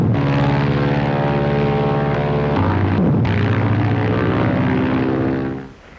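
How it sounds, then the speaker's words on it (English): Propeller scout planes fly reconnaissance near Saipan during the Second World War, their engines a loud, continuous droning roar that holds steady and then fades sharply at the very end. "scout planes flew reconnaissance missions to search out any enemy naval force."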